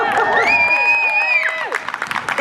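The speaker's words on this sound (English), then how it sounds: "We can all pause in the middle of our program and cheer when somebody votes." An outdoor crowd at the 2020 Women's March in Scituate cheers and applauds a voter, with loud, sustained whoops and shouts rising over clapping before breaking into scattered claps.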